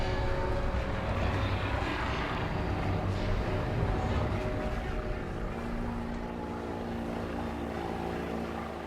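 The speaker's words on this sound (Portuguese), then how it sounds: "Ouvi um barco, mas eu estava longe do rio." A boat engine on a river drones steadily and fairly loud through the whole stretch, a continuous low motor hum with a buzzing, propeller-like tone.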